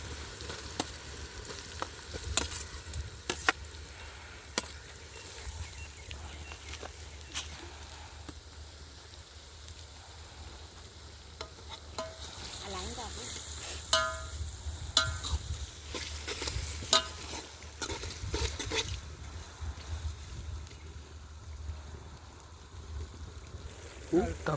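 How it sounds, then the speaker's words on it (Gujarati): Fresh green turmeric is roasted in ghee in a pot while being stirred, cooked in a farm field. The quiet sizzling and scraping stir clicks run under intermittent talking. "શેકવામાં બહુ વાર લાગે. આને હલાવતું રહેવું પડે"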